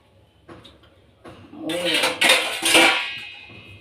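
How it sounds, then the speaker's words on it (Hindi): Dishes and utensils clatter and clink as they are handled and set down, growing louder and busier partway through, with brief metallic knocks and scrapes in a household kitchen. "चलो भाई बर्तन भी मेरे लग चुके हैं"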